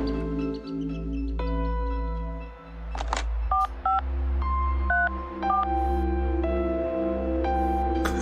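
Telephone keypad dialing tones in a video game, a run of short paired beeps at an even pace over steady background music, with a few brief clicks in between.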